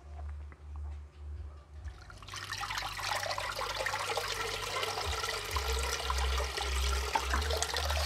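Coconut milk squeezed by hand from grated coconut and running into a pot, a trickling, splashing pour that starts after a quiet moment and keeps going steadily.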